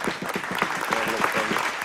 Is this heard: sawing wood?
no